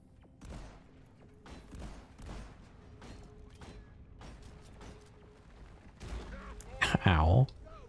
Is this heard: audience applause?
no